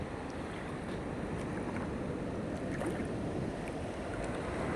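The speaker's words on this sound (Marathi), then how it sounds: "लाट आहे लहान लहान लाट आहे" Small waves lap on the swollen, fast-flowing Godavari River in flood, a dense continuous wash of water with wind buffeting the microphone, steady and close, with no voices.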